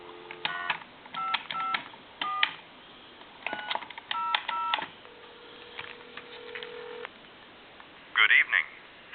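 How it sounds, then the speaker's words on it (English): A Crosley Princess telephone dials a time and temperature number: bursts of touch-tone beeps in uneven groups, a held tone, then a short burst of ringing or signal tones near the end, with faint talking underneath. "we're going to give like a time and temp number a call"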